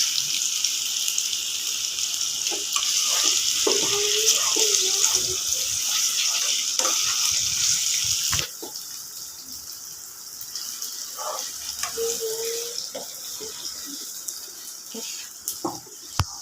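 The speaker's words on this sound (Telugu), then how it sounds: "ఉల్లిపాయలు కూడా మా చూసారా అలా అలాగే పచ్చి వాసన పోయేదాకా వేగించుకుండాలి" Onions sizzle in a hot pan in a home kitchen, a steady bright hiss that drops to a quieter crackle partway through, with clinks of a stirring spoon and someone talking over it.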